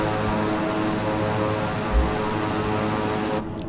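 An OV-10 Bronco's propeller engines drone steadily in a flight simulator game during a shallow dive, a constant loud hum that thins out near the end.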